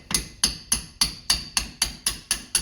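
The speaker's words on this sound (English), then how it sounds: "you just kind of hammer it out" Nine sharp metallic strikes in a steady rhythm, a hammer driving a steel punch to knock out a kingpin on a Citroen 2CV, each hit ringing briefly before the next.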